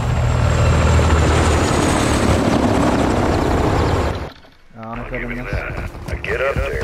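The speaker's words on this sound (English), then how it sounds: "Got a heli incoming." Helicopter approaching in the Modern Warfare 2 video game campaign, a loud steady rotor and engine roar that cuts out abruptly near the end, followed by game music and voices talking.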